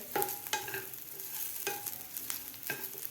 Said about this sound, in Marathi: व्यवस्थित आपल्याला हे थोडंसं आणखीन गुलाबी कलर होईपर्यंत आपल्याला हे सगळं जिन्नस भाजून घ्यायचे आहेत